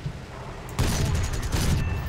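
Japanese aircraft cannons fire in War Thunder, a rapid burst of heavy booming shots that starts abruptly and rattles on loud for over a second.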